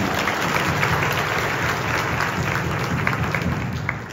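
Students at a foreign language high school's welcome and appointment ceremony for new first-years clap together in a steady, continuous burst that fills the hall and tapers slightly at the end.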